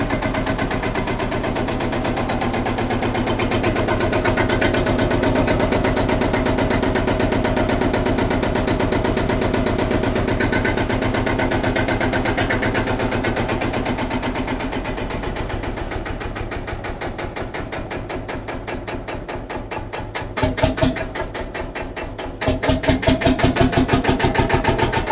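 A tractor engine runs steadily with a deep, rumbling drone, loud and close, the whole tractor shaking, with a few rattling bursts near the end.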